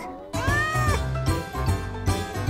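A cat meows loudly from a movie soundtrack, several drawn-out, wavering calls following one another with brief gaps, close and clear with no talk over them.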